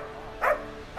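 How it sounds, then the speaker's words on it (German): A police dog gives two short barks about half a second apart. They are fairly faint and sound as if from a small distance, over a low background hum. "Der Hund ist schon aufgewärmt."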